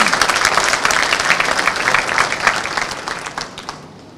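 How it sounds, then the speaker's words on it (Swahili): Guests at a gala dinner in Dar es Salaam clap for an innovation launch. The applause is dense and sustained at first, then thins into scattered claps toward the end. "Tupigie makofi kwa bwana."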